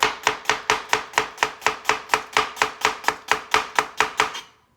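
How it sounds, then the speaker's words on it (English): A knife chops an onion on a cutting board in a fast, even rhythm of about seventeen crisp strikes, close and clear with no talking, before stopping abruptly. "We're going to cut the onion in half."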